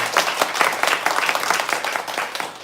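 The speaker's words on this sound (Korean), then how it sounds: "박수로 환영하겠습니다." A church congregation claps in welcome as a pastor arrives during a Sunday worship service, the applause sounding close and fairly loud with individual claps distinct in a steady patter.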